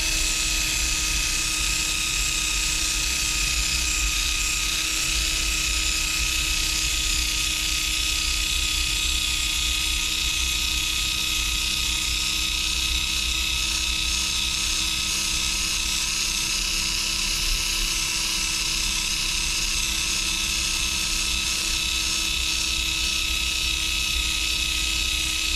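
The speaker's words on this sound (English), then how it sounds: "Just polishing my inlays too as we go, and as well as polishing the fretboard." A steady, high-pitched power drill whine drones on without a break while polishing a guitar fretboard and inlays, with a constant buzzing hum underneath and no voices.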